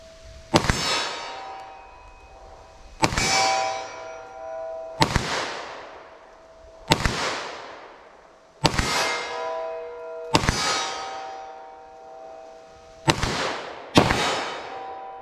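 Eight .40 S&W pistol shots fired into ballistic gel at an outdoor range, each a loud sharp crack with a ringing tail, spaced irregularly about one to two seconds apart, the last few closer together.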